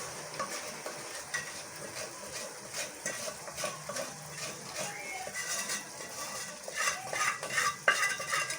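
Sugar syrup poured and stirred into reddened spices for sweet rice zarda, a soft sizzle and wet bubbling under steady metal scraping of a spoon against a pot, close and busy without talk.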